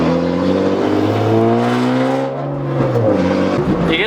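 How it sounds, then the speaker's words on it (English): A straight-piped BMW revs loudly and close by, its exhaust note sweeping up and down with rough pops and gurgles as the engine comes off throttle. "You get some nice pops and gurgles when you can hear them."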